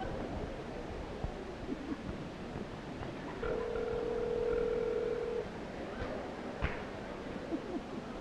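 Telephone ringing on speakerphone, one steady ring tone of about two seconds sounding faintly over crowd noise and room hubbub.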